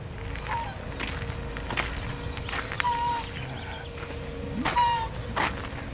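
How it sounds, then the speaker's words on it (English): Ducks and geese in a farm animal exhibit at the OC Fair give several short, scattered calls over a background of footsteps and crowd bustle. "Look, duck and geese."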